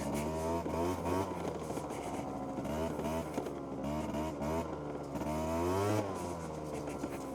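Close, continuous scooter engine note bouncing up and down in pitch as the rider works the throttle over rough, overgrown off-road ground, with a rising rev near the end.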